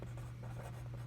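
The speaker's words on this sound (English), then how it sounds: "I'm going to write it exactly how I said it" Numbers are written out by hand for a place-value lesson, a brief close scratching of pen strokes over a steady low hum with no talking.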